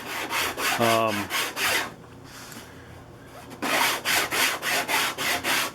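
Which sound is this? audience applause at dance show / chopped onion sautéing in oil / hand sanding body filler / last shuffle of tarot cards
hand sanding body filler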